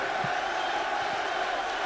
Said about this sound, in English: It doesn't sound much like a library in here right now. The crowd loving it.